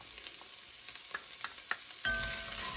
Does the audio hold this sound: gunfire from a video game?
no